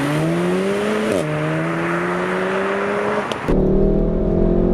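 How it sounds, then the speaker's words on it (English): A Volkswagen Golf R Mk7 with DSG gearbox roars loudly as its four-cylinder engine accelerates, its pitch climbing steadily, then briefly dropping at a gear change before climbing again. "I've never heard a 4-cylinder engine sounding anything like that."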